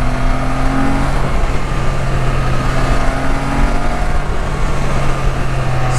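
A Can-Am Spyder F3 three-wheel motorcycle engine roars steadily at high revs throughout, a sustained droning growl with no pauses or speech.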